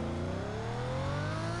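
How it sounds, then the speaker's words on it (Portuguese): A car engine roars steadily in the racing game Need for Speed Most Wanted, a loud continuous drone with its pitch climbing as the car accelerates, with no talk over it. "Olha o ronco desse carro."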